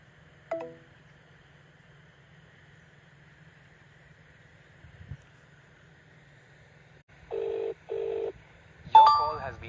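During an outgoing phone call, two short buzzing ring tones sound close together near the end after mostly quiet line noise, followed by a brief electronic tone.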